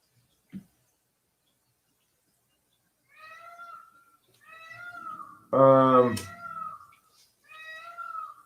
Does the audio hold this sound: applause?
no